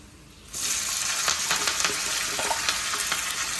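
Shallots, grated coconut, garlic, ginger and curry leaves sauté in a hot pan, a loud steady sizzle starting abruptly after a brief quiet moment and crackling on with scattered sharp pops and scraping stirs.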